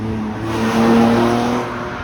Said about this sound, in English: that car has quite a muffler